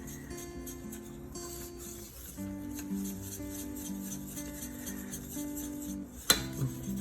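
Whisk scraping and lightly clinking against a bowl while stirring a sugar mixture for Southern pecan praline cookies, soft and steady with a sharper clatter near the end, over faint tonal background music.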